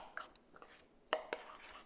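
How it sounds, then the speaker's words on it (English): A utensil stirs melted coconut oil into ground nuts and dates in a bowl, a few faint, close clinks and soft scrapes spaced irregularly, with two sharper knocks near the end and no talking. "Now what we're gonna do is add our melted coconut oil, and then we're gonna stir it up."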